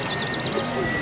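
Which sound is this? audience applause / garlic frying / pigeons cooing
pigeons cooing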